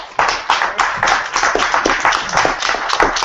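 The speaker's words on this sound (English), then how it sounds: "Round of applause." An audience at a hip-hop town hall event gives a round of applause: dense, steady clapping from many hands that runs continuously at close, fairly loud level, with no talking over it.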